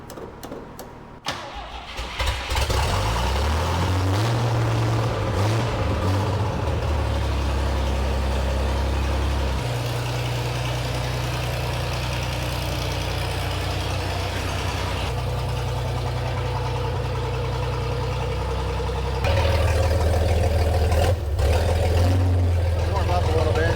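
A 1968 GMC C2500 pickup with a big-block engine, pulled out of a storage unit, cranks briefly and then catches. It settles into a loud, steady, rumbling idle close by for the rest of the clip, while voices talk over it.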